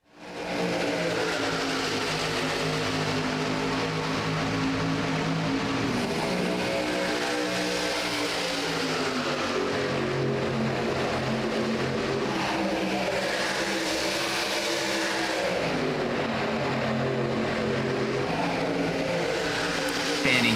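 Racing trucks roll off the green-flag start at Michigan International Speedway in a sim-racing game, a dense pack of engines droning and rising in pitch together, loud and continuous throughout under a talking commentator.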